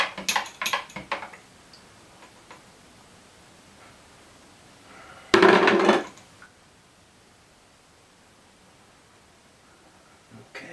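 Stirring Caffenol coffee-based film developer in a container, heard as a single burst of scraping, swishing noise lasting about a second, preceded by a few light clinks and rustles, then near silence.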